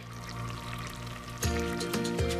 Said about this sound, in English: I already have my butter melting, and I'm going to pour in my honey